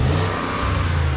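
A cold Porsche Cayenne Turbo S engine revs loudly and steadily against a 4,000 rpm limiter, a continuous low drone that holds near one pitch with a slight dip in the middle.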